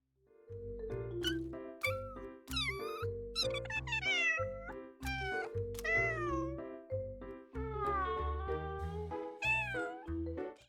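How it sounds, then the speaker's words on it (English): A video-game cat meows repeatedly, a series of clear, varied meows one after another, close and distinct with short gaps between them. "There is a meow button in this game, so you will hear this voice if you want to."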